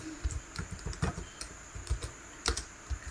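An address is typed on a computer keyboard, a quiet run of irregular, closely spaced key clicks with a few sharper taps, heard alone.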